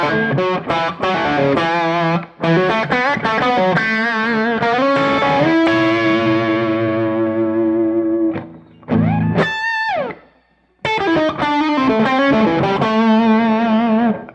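Les Paul electric guitar on the bridge pickup, run through the T Scream overdrive setting of a Boss ME-90 multi-effects unit, plays loud, gritty rock riffs and sustained chords with short gaps and a bent note near the end, with no voices.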